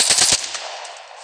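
A sniper rifle fires in Call of Duty Mobile as one loud, sharp burst of repeated cracks, then a long fading echoing tail, with no voices.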